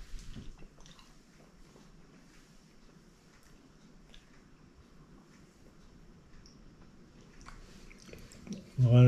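Soft, wet chewing and squishing of a large one-pound cherry gummy rabbit, close and faint, with brief speech and a louder burst at the end.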